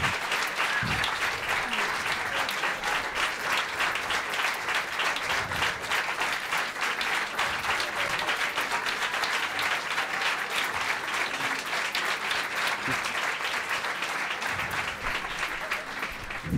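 Studio audience at a TV show applauds steadily and loudly, a dense wash of clapping that holds throughout with no voices on top.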